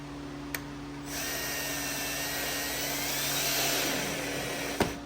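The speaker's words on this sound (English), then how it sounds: "It's just a self-tapping screw through plastic." A cordless drill drives a self-tapping screw through plastic on a golf cart, a steady close whine that rises slightly in pitch and holds for several seconds between two faint clicks.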